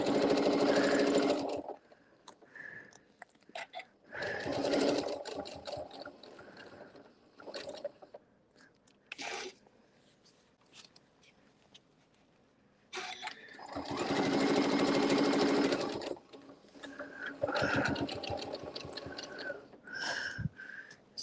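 Sewing machine stitching a seam on a winter fan blade quilt piece, running in several bursts of steady mechanical whirring separated by pauses and quieter handling noises.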